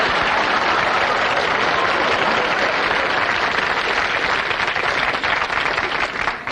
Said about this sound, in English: Give the man a nice round of applause